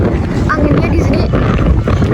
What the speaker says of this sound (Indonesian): Anginnya bener-bener kenceng banget.